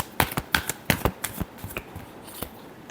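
Tarot cards are shuffled by hand in a quick run of crisp riffling slaps and flicks, heard close and clear, then tapering into lighter taps.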